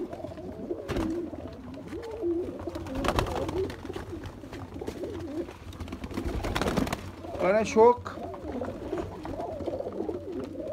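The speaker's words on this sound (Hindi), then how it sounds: "ये सभी के सभी कबूतरों को आपको शो करवा रहा हूँ।" Red-eyed golden pigeons in a large breeder flock cooing softly and repeatedly in the background while someone talks over them.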